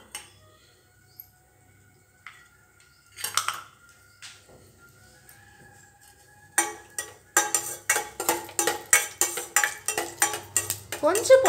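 Cashews stir-fried in melted ghee: scattered clinks at first, then a quick run of metal spoon scrapes and clatters against the pan over a faint sizzle, with some speech in the clip.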